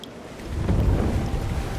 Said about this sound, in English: a powerful wave of water crashing down towards you